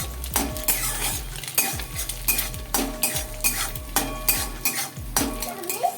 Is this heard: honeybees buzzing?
no